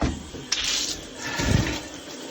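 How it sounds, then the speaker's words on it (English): Water rinses mud off wire-spoked car wheels being cleaned in a garage, a steady broadband splash and hiss with brief bursts, close and fairly loud throughout. "let's take a rinse here and see what we were able to do"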